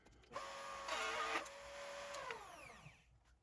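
A fixed router cuts a chamfer along the edge of a maple and purple heart end grain cutting board, its whine rising as the bit bites into the wood, holding steady, then winding down, with no voices.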